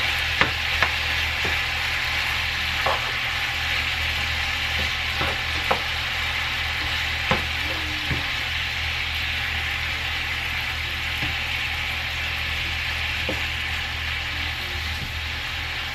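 Steak fries in a pan with a steady, close sizzle and hiss, scattered with small pops and crackles throughout, no voices.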